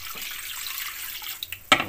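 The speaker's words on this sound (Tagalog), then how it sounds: "I-drain na natin yan. Drain. Tapos hugasan ulit natin kasi maalat yan." Water runs from a tap over soaked salty food as it is drained and rinsed in a sink, a steady soft flow with a few louder splashes near the end.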